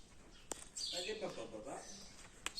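Birds nesting in small holes in a cave wall chirp in a quick, bright flurry that echoes faintly, with a couple of sharp clicks around it.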